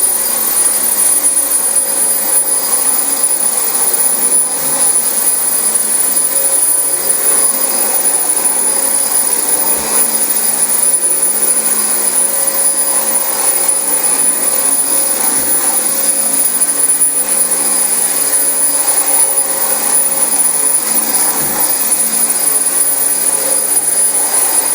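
A Dyson DC25 upright vacuum cleaner runs steadily over a very dirty carpet, giving a loud, continuous high-pitched motor whine with airy suction rush that stays unbroken throughout.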